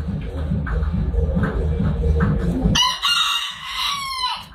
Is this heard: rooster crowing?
yes